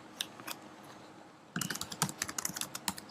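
Fingers tap out a comment on a computer keyboard, soft scattered clicks at first, then a quicker run of close, crisp keystrokes.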